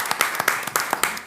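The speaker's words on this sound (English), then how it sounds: "I would love for you guys to give them a round of applause." Scattered applause from a small group at a city council meeting honoring city staff, with a dozen or so distinct claps in an uneven rhythm, fairly close and not very dense.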